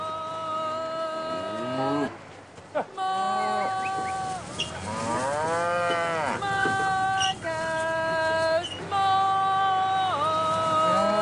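Cattle being driven along a path to pasture in British Columbia, with several loud, drawn-out moos and bellows calling one after another, close by and overlapping, with short gaps between calls.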